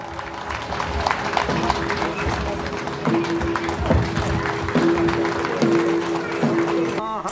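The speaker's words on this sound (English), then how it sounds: "A big round of applause" An audience at the Tamla-Du Festival puja in Lohit, Arunachal Pradesh, claps loudly and continuously, dense applause swelling in waves with scattered whoops and crowd noise.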